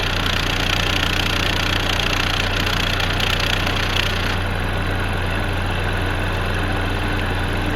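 A Chevy Equinox engine with an oil-burning fault runs steadily at idle, a constant low mechanical drone with a faint rattle, close and loud throughout, no talk.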